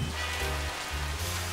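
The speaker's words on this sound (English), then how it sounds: "The rain was coming down in torrents, and Joe was feeling as miserable as the wea" Steady rain pouring down in torrents, used as a radio drama sound effect; a dense, continuous hiss fills the scene with a low rumble beneath, heard alone without any voices.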